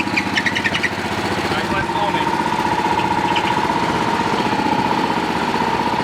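Running Pluk-O-Trak orchard harvester with a squeaking V-belt, a steady mid-pitched engine drone carrying a sustained high whine, loud and close, with people talking over it.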